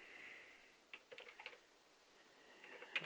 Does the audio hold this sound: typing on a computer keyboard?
yes